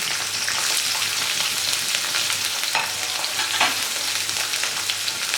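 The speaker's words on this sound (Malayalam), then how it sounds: "വെളിച്ചെണ്ണ നന്നായിട്ട് ചൂടായി വരുമ്പോൾ അതിലേക്ക് അരിഞ്ഞു വെച്ചിരിക്കുന്ന കോവയ്ക്ക് ഇട്ട് കൊടുക്കാം." Chopped ivy gourd (tindora) fries in hot coconut oil, a loud, continuous close-up sizzle with scraping stir strokes from a spoon, and no talk.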